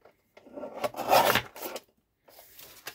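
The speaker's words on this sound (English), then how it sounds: "I'm gonna take my guillotine, and with my guillotine I'm gonna cut 4 inches pieces." A paper guillotine slices through a file folder in a short rasping, scraping stroke, followed by a quieter second scrape after a brief pause, close and alone without talking.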